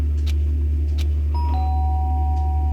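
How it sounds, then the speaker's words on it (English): Two-tone electronic doorbell chime in Danganronpa, a clear ding followed by a sustained dong over a loud steady low hum, with a few soft clicks before it. "The sharp sound of the doorbell pierced my sleepy haze and pulled me back to the real world."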